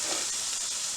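Carrots braising in a hot pan give off a loud, dense, steady hiss like steam, unbroken and close for a brief moment with no voices.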